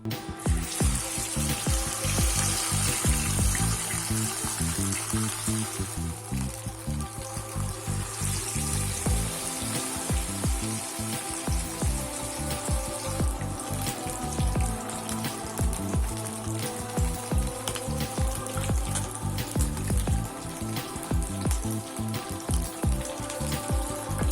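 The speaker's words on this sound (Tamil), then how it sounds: "இப்போ நம்ம மீனை ஆயிலில் போடலாம்." Fish frying in hot oil in a pan for a crispy Tamil-style fish fry, giving a steady, dense, close sizzle that holds throughout with no talking.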